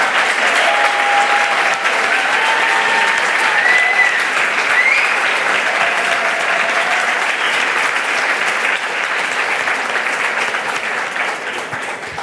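A large audience applauds a panel speaker, Sylvia Earle, with sustained loud clapping and a few whistles, continuous and even for the whole span before tapering slightly at the end.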